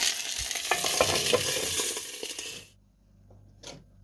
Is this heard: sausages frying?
yes